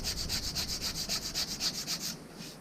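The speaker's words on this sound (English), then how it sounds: "Okay, so that's rubbed back and that's taken out the worst of it." Hand rubbing back paint on a Honda Superdream motorcycle part, a close, steady back-and-forth scratchy sanding rhythm of about a dozen strokes, with a quieter stroke at the end.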